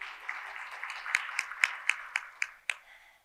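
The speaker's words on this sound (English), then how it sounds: "So one more round of applause for you." An audience at an annual healthcare quality conference claps in a short burst of applause, rising to about eight sharp, distinct claps before fading.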